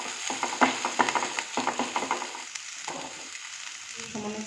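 Bell peppers, red and green capsicum, chopped green chilli and grated carrot fry in a pan, with a steady sizzle broken by repeated clattering stirs of a spatula, close and fairly loud.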